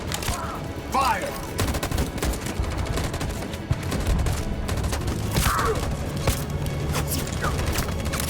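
Sustained gunfire volley in Detroit: Become Human, dense overlapping shots rolling steadily through the scene with occasional louder cracks and shouting voices mixed in.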